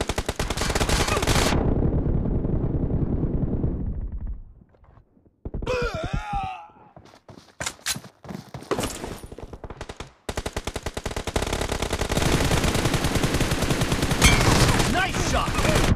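Rapid automatic gunfire from M416 and M24 rifles in a 4v4 team deathmatch shooter game, loud and dense bursts for long stretches, dropping out briefly to a quieter gap with scattered single shots before the heavy firing resumes.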